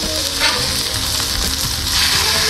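Smash burger patties sizzle loudly on a hot griddle, a dense, continuous frying hiss heard close up and alone, without talk.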